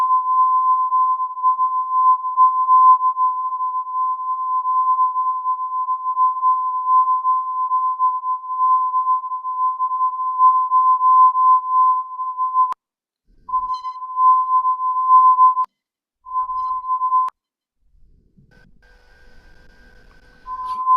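Steady tone from a VHF/UHF amateur radio weak-signal echo recording, holding a single pitch for about thirteen seconds, then breaking into short bursts and clipped pieces before a fainter, buzzier tail.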